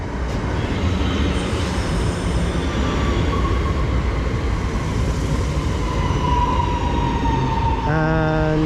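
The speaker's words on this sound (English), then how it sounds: "arriving in now is going to be the 1518 West Midlands Railway Service 2 Redditch, our train" A West Midlands Railway class 323 electric train pulls into a station on the Cross City line, a steady loud rumble with rising whine, and a two-tone horn or chime sounds near the end.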